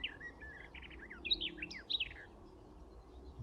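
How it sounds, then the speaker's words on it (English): A garden warbler sings a long, rich warbling phrase of varied notes at moderate distance, clear against a quiet outdoor background in a country park. "it was actually a garden warbler"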